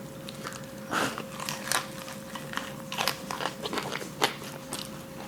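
Bites into a crispy fried potato taco made with a fried tortilla, giving several close, sharp crunches spread over a few seconds with chewing between, no talking.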